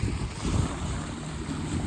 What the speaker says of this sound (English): We're getting a lot more wind, which is nice.